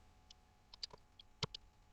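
Someone types on a computer keyboard: sparse, faint, irregular clicks and taps spread over about two seconds, with one slightly louder keystroke near the end.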